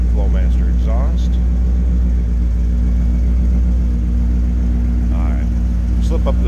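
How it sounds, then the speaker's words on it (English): Low, steady rumble from a 1963 Chevrolet Impala's 350 V8 idling through a Flowmaster exhaust, heard up close behind the car, with brief voices speaking over it. "you hear that 350. Nothing crazy, little rumble coming out of it. Flowmaster exhaust."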